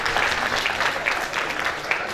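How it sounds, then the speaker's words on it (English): Audience applause at an annual meeting of academies, a dense, steady wash of many hands clapping that holds at an even level throughout, with no talk over it. "Please give them a round of applause."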